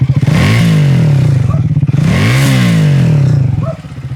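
A Triumph Thruxton 400 single-cylinder motorcycle exhaust thumps at idle, then revs up twice with a rising and falling roar, loud and close.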